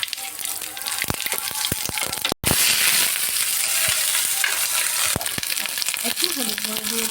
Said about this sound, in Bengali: এবার দিয়ে দিচ্ছি পাঁচফোড়ন, তেজপাতা, কালো জিরে,